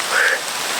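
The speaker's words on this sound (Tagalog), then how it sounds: "Sobrang lakas ng ulan talaga." Heavy rain pours down in a steady, dense hiss, heard alone for a brief moment.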